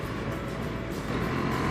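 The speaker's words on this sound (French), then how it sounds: "il fallait encore que je tombe sur une bagnole" A car passes by on a country road during a motorcycle ride, a steady loud whoosh of engine and wind noise lasting throughout with no talk.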